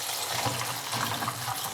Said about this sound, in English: First, rinse the ladies' fingers and then dry them with kitchen towels.